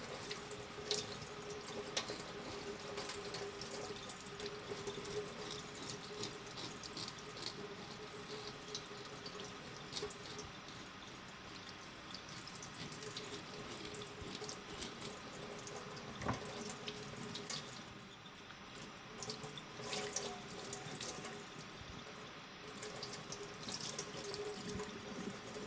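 Tilapia being rinsed under a running kitchen tap, a steady close hiss of flowing water splashing into the sink with small spatters and drips throughout, no talking.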